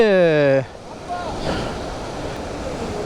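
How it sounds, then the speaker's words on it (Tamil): Rushing water from a waterfall in heavy monsoon rain at Valparai makes a steady, broad roar close by, after a brief hum at the start, with wind buffeting the microphone. "இந்த அருவி தண்ணி புலம் தள்ளிட்டு வந்துட்டு இருக்குது"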